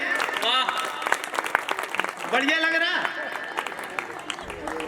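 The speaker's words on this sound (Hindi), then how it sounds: "एक बार जोरदार ताली है" Applause rattles through the room at a live comedy poetry stage show, with dense clapping from many hands, mixed with a voice speaking over it.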